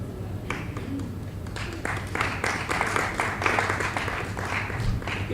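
Audience applause at a live evening event, a steady wash of many hands clapping at moderate volume, swelling slightly in the middle and continuing throughout with a faint voice underneath.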